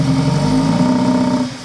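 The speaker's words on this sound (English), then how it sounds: "Now just hold it about half throttle. Keep it at about half throttle." An engine held steady at about half throttle, a loud close, even droning hum with a constant pitch that dips slightly at the end.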